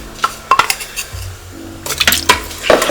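A utensil knocks and scrapes inside a stew pot of Greek beef stifado while tomatoes are broken up, loud close clinks and clanks in irregular bursts over a low bubbling background.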